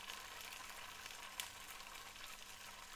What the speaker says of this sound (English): Listen to the side sizzle.